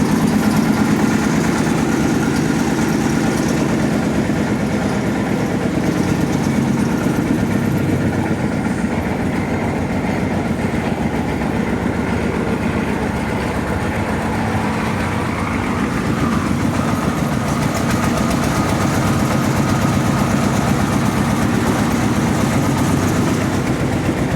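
Repaired engine at a borewell drilling rig in sandy clay soil, a loud continuous low rumbling drone running steadily throughout with no pauses.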